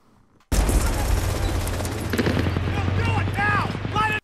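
Battle-scene gunfire from the 1998 war film Saving Private Ryan, a dense fusillade of shots and booms starting abruptly and rolling on steadily, with faint voices over the din.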